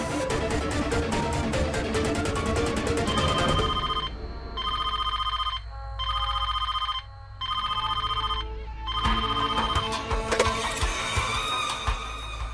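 A telephone rings repeatedly in a steady pattern of bursts with short gaps. The call is placed to a home phone in an Indian TV serial scene. Dense background music plays at the start, then the rings continue clearly with no talking.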